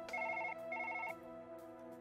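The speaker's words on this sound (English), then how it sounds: "Phone call." A telephone rings in two short trilling bursts in the surgery video game Surgeon Simulator, with background game music behind it and no talk.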